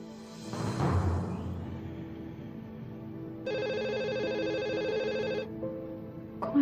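A telephone rings and goes unanswered: a steady electronic ring begins after a soft rustle, sounding for a couple of seconds before cutting off.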